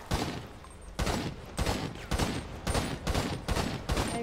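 Bursts of gunfire from the video game GTA, several loud repeated volleys roughly every half second with no speech, like rapid weapon fire in a roleplay shootout.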